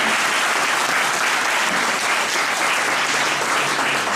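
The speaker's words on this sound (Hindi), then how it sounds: "कुछ तालियां तो बजाएं इनके लिए।" Dense, loud audience applause at a college felicitation ceremony fills the whole stretch, a steady wash of many hands clapping without pause.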